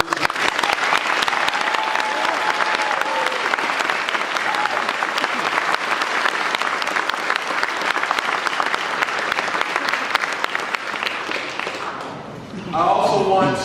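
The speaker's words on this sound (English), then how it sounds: "So Sacramento, we need to give a round of applause" Sacramento crowd at a media and fan event with the mayor gives sustained, loud, dense applause that tapers slightly near the end before a voice begins speaking.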